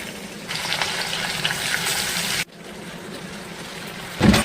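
Water pours into a hot pan of onions and brinjal with a hissing, sizzling gush, stops abruptly, then a brief splash and clatter follows near the end.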